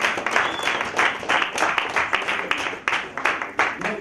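Audience at a Mandela Washington Fellows event gives a round of applause: steady, fairly close hand-clapping from a crowd that keeps up an even, dense rhythm for about four seconds.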